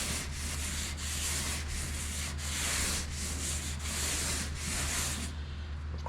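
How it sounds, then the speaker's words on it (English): A sanding block rubs back and forth across a car body panel on a 2014–18 GM truck wheel arch repair, a continuous abrasive scrape with regular strokes about every second, close and loud. "lots of block sanding until"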